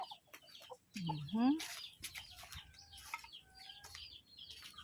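Chickens cluck and squawk nearby in a yard, one loud rising squawk followed by scattered softer clucks and faint peeping chicks, with a person talking intermittently.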